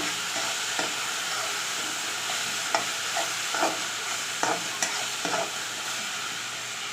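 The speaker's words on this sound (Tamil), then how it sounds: "இப்போது தக்காளி போட்டாச்சு, தக்காளி போட்டு நல்லா வதக்கிக்கலாம்." Tomatoes sauté with onion, ginger and garlic in a pan, a constant bright sizzle with scattered soft scraping taps from stirring, fairly quiet and close, with no talk.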